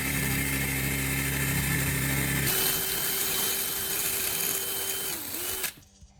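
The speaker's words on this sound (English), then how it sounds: "Next, I drill one clean hole near the end of the L-shaped steel." A power drill bores a hole near the end of a piece of L-shaped steel, running loud and steady with a high whine that shifts pitch partway through, then cuts off abruptly at the end.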